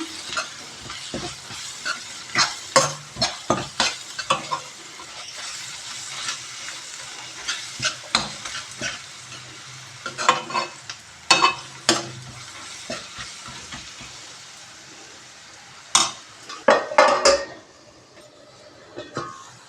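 Onions frying in a pan for egg onion karam, a low steady sizzle broken by frequent scraping and stirring strokes of a spatula against the pan, close by and with no talking.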